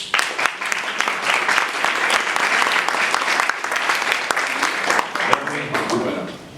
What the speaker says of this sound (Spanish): recibimos al licenciado Prada con un fuerte aplauso.